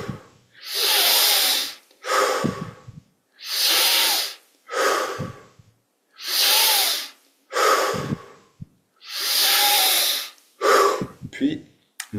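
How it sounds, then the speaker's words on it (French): Deep, forceful breaths during a yoga meditation exercise repeat in a steady rhythm of about six cycles, each long hissing inhale followed by a sharp exhale, loud and close with silence in between. "On augmente maintenant l'amplitude de la respiration."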